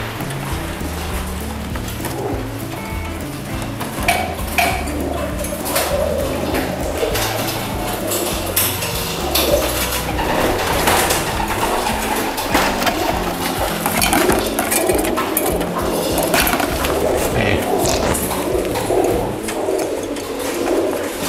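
Pigeons coo and flutter in a breeding room, a steady cluster of soft throaty calls mixed with scattered clinks and rustles, fairly close and loud, with no talk over them.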